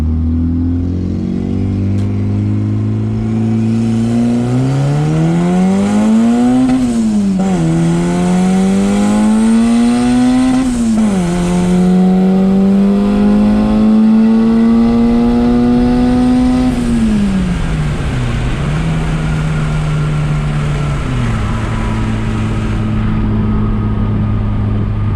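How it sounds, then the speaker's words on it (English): A turbocharged Honda D16 car with a new Cometic head gasket accelerates hard through several gears, engine pitch climbing repeatedly then dropping at each shift, loud and close from inside the car with steady road noise. "Let me get on the straight piece of road and let's see what this car can do."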